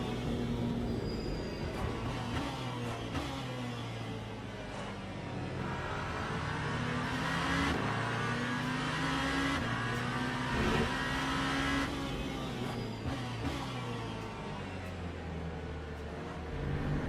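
Race car engines from the Le Mans Ultimate game at Daytona, including a Porsche, drone steadily and loudly throughout, with shifting engine pitches and passing cars.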